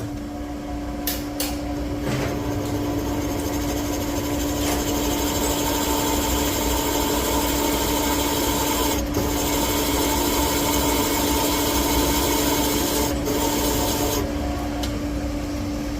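Steady machining drone of a cutter spot-facing valve guide bosses on a Ford 351C cylinder head, using a valve seat as a stop; a continuous, fairly loud tool hum with a constant tone, no talking.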